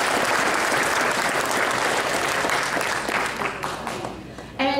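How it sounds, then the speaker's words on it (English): Audience at a conference panel breaks into dense, sustained applause that holds steady for several seconds, then thins slightly before a voice cuts in at the very end. "let's give them a round of applause"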